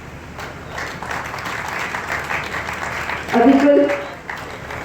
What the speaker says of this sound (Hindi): मेरे को तो लगता है पूरे भारतवर्ष के लिए हमें तालियां बजानी चाहिए